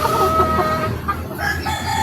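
A Golden Boy street breed gamecock crows loudly and close by, its long harmonic call sustained and wavering across the whole stretch with no talking.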